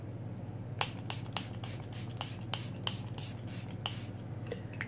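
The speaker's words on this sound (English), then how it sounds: "now I'm going to go in with my A Plus Primer Spray from Shop Miss A." Short, quiet bursts of A Plus primer spray misted onto a face, about a dozen quick hissing spritzes in an irregular rhythm over a low background hum.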